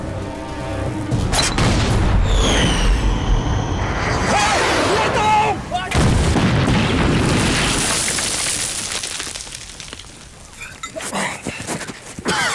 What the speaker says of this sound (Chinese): 长官，你别上了，别上了，我开炮行吗？